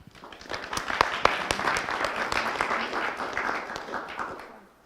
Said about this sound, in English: So if we could give him a round of applause, please.